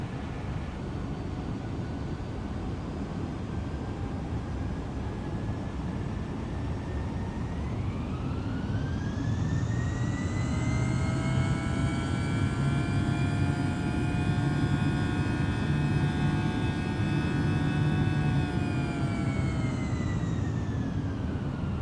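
Airliner cabin engine noise on the descent from London Stansted toward Liverpool John Lennon, a steady broad roar with a whining tone that rises and holds as thrust increases, constant throughout with no voices.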